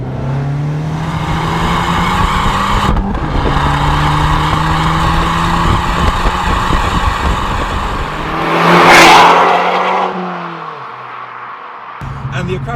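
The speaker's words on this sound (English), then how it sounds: "particularly when you have an Akrapovic exhaust behind me that sounds like this." Abarth 695 Rivale with a valved Akrapovic exhaust, revving loud and close in a steady drone that swells briefly near the end before dropping away.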